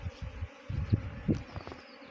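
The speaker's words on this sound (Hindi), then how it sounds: "बाहर में स्वार्म है पूरा चारों तरफ हो रखा है" A honeybee swarm buzzes around the hive while the queen moves in and out, giving low, uneven droning pulses close to the microphone with no speech.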